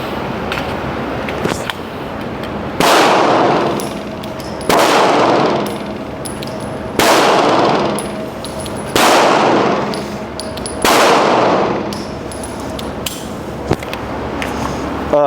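Six loud pistol shots from a Glock fitted with a Timney aftermarket trigger go off at an outdoor range, spaced about two seconds apart, each a sharp crack with a long ringing decay and faint clangs between.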